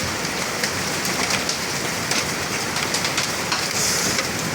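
Torrential storm rain drums without letup at a farm, driven by strong wind; a close, loud, unbroken wash of falling water fills the whole stretch, with no voices.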